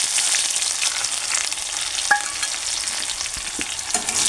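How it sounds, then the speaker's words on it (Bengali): Onions frying in hot oil with cinnamon, a continuous close sizzle with occasional stirring scrapes and small pops, no voices. "পেঁয়াজটা একটু ব্রাউন কালারের করবো।"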